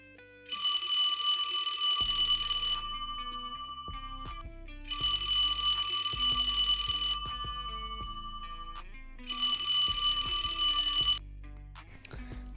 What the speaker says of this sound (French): c'était mon réveil et c'est moi qui me réveille là